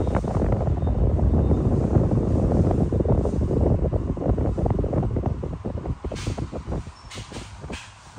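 An old Japanese 100V electric fan with its original cage and blades runs steadily, a close, loud whooshing airflow hum that fades and turns gusty near the end.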